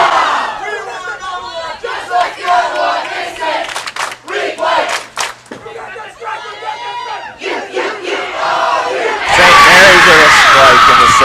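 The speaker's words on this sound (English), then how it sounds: "Listen to that crowd." A crowd of fans roars and yells at a girls' state high school bowling tournament, loud and building, swelling into a big cheer toward the end while commentators talk.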